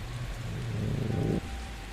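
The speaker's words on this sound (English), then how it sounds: "Behind him, the rain whispered" Steady rain falling outside a house behind a man at the door, a soft continuous patter that swells slightly before dropping away, heard alone without voices.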